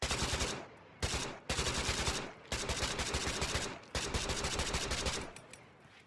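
A custom weapon firing in the Miscreated video game, with several loud bursts of automatic fire in quick succession, each cut off by short pauses, heard close and alone.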